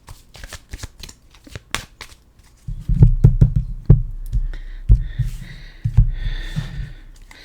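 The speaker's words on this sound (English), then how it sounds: "We're just going to give a fast shuffle" Tarot cards get a fast shuffle: a sequence of crisp riffling and tapping bursts, close and fairly loud, with sharp snaps and a thicker rustling flurry in the second half.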